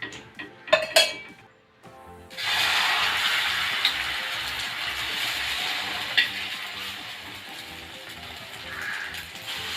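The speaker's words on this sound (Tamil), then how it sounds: "இப்போ நம்ம கல்ல ஆயில் ஊற்றுவோம்." Oil poured onto a hot griddle before an egg bread omelette: a few clinks, a brief hush, then a loud steady sizzle that settles and holds to the end, with no talk.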